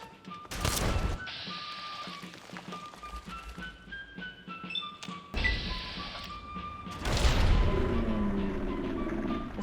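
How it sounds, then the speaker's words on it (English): Grenade explosions in the video game Fallout 3, heavy booming blasts with thumping impacts over a tense in-game soundscape, the loudest bursts near the start and the middle. "Let's switch to grenades here."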